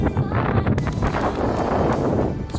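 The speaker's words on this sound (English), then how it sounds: "sorry if you can't hear me, it's pretty windy" Strong gusty wind buffets the microphone at an outdoor ice rink, a loud continuous low rumble with rustling bursts across the whole stretch.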